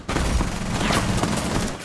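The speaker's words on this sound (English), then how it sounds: "They're just running into gunfire, spraying." Dense, rapid gunfire crackles continuously in a loud, chaotic burst, like sustained automatic fire in a battle.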